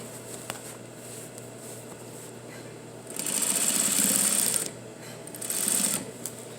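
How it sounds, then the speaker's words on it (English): A sewing machine edge stitching down the back of a pair of jeans, running in two loud, fast, buzzing bursts separated by a quieter pause, with a faint background hum. "we're going to edge stitch right down the back"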